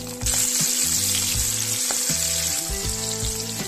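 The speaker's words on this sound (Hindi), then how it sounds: "अब हम डालेंगे मशरूम।" Mushrooms dropped into a hot pan of lightly browned onion burst into a steady loud sizzle, with a few clanks of a utensil and soft tonal hum underneath, nobody speaking.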